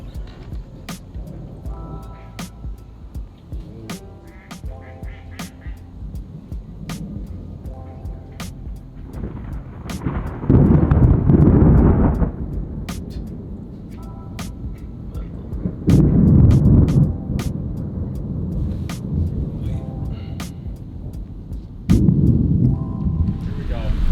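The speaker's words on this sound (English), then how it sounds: "But it's about to rain hard on us." Deep rumbling bursts of thunder roll in and out over a steady wash of rain and wind, with sharp crackling clicks scattered throughout.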